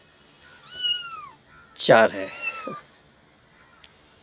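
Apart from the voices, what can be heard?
cat meowing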